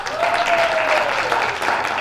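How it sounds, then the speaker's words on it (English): Audience applause at an improv comedy show, a steady wash of clapping from a crowd with a few whoops, loud and continuous through the short stretch. "You guys give yourselves a round of applause."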